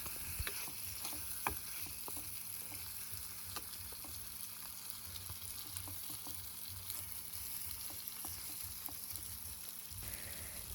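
Chicken pieces for a Sri Lankan curry sizzle steadily in hot oil, a soft continuous crackle with small pops and occasional spoon stirs, quiet and without talk.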